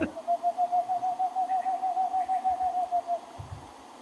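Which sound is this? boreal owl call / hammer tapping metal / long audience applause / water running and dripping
boreal owl call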